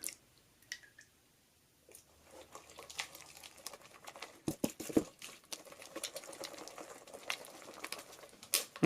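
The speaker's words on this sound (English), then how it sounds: "Just gonna keep mixing it." Glue slime being mixed with activator solution, giving wet squelching and sticky squishing sounds in irregular bursts up close, quiet at first and then busier.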